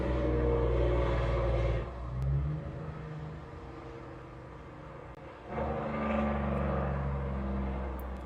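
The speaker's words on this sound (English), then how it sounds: "Oh, loud truck outside." Loud truck passing outside, a heavy engine rumble that swells, eases off in the middle, then surges again with revving, heard alone without talk.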